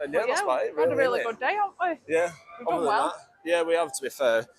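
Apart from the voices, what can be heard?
No distinct noise like a dog, phone or traffic.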